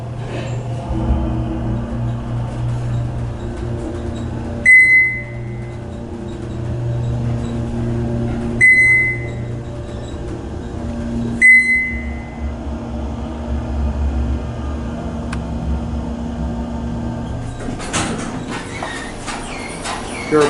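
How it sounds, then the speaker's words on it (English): Fujitec hydraulic elevator at a 1990s resort building running between floors, a steady low motor hum under a cab ride with three short chime dings spaced evenly, then a rattling shift as the ride ends. "And here's the left elevator."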